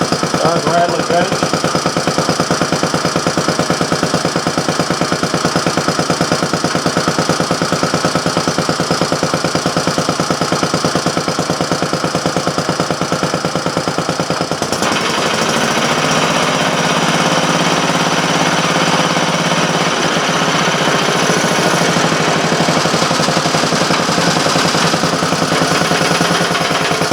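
Briggs & Stratton Model A engine running on a rattling bench, a loud continuous clattering drone with fast rhythmic knocking that shifts in tone partway through, close by.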